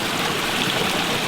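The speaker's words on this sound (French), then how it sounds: "Je crois que le bruit qu'on entend, c'est le bruit d'eau." Flowing stream water near the fountain in the Brocéliande forest, a steady close hiss of running water with no pauses.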